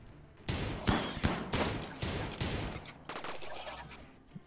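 Gunfire in RimWorld, a ragged volley of several sharp shots at irregular intervals over a few seconds, moderately loud and close.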